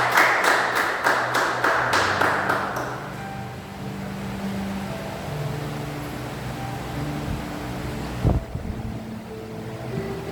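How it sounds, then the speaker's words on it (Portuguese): A church congregation applauds after a prayer, a dense, roaring wash of clapping for about three seconds that fades into a low room rumble with faint murmuring and a sharp thump near the end. "Vamos aplaudir o Senhor."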